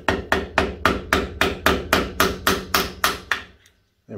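A hammer taps about a dozen times in a steady, even rhythm on a Myford lathe part to knock it loose, each blow sharp and close, and the strikes stop abruptly into near silence.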